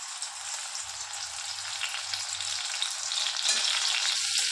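Ground chutney hits hot oil in a wok and fries with a bright, steady sizzle that swells louder toward the end, with a low stove hum underneath and no talking.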